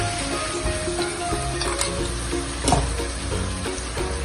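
Garlic ginger paste sizzling and spitting in a hot pan for mee goreng, a steady close frying hiss with small pops and a brief stirring scrape partway through, no voices.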